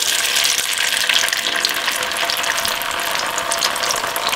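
Corn tortilla dipped in red chile sauce and frying in hot oil for chicken enchiladas, a steady loud crackling sizzle that never lets up, with no voices over it.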